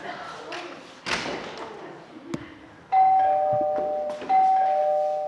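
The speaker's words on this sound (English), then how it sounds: "That's the doorbell, dear, not the telephone." A few thumps and knocks, then a doorbell chimes twice on a high school theater stage, clear ringing tones that sustain and fade.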